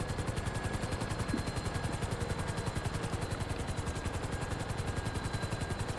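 A damaged helicopter in GTA 5 on PS5 flies with a steady rapid rotor chop, loud and close, thumping evenly throughout with a faint high whine above it.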